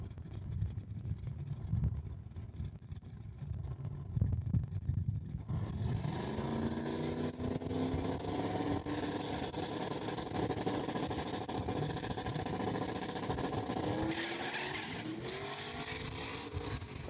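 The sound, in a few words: Ford Mustang and 1979 Chevy Camaro launching at drag strip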